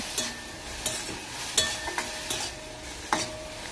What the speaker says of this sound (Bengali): দিয়ে আবারও আমি নাড়াচাড়া করে নিচ্ছি